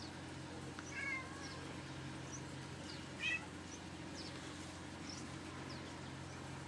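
A cat on a porch gives two short, faint meows a couple of seconds apart over a steady low background hum.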